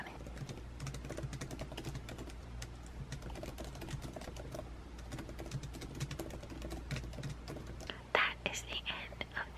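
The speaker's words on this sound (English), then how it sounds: "I'll do an ASMR of my MacBook's actual keyboard sound, which is pretty much completely silent" Gibberish typed on a MacBook's built-in keyboard, with soft, rapid, continuous key taps close to the microphone over a faint background hum. A few louder clicks come near the end.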